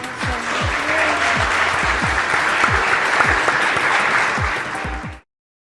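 Sustained audience applause at a formal Cuban political address, dense and steady for about five seconds before cutting off abruptly.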